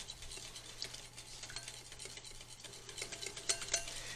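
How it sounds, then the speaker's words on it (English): A whisk clicks and scrapes against a bowl, beating egg yolks with warm liquid in quick, light strokes that stay fairly soft and close. "Just keep on whisking, whisking, whisking."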